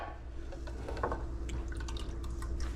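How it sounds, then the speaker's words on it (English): Liquid draining while jello is being made in a kitchen, a soft steady trickle with a few light drips, close and quiet over a low hum. "See that draining in there?"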